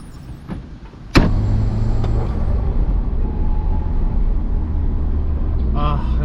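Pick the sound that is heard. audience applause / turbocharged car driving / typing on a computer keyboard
turbocharged car driving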